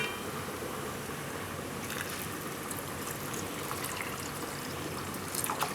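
Water poured into a cooking pot for a tomato and beetroot soup, a steady close trickle running throughout, with a few splashy bursts toward the end.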